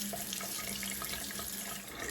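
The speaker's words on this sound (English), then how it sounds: "let's get rinsed off here" Tap water runs steadily into a sink as someone rinses off after a shave, a constant close hiss and splash with no talk.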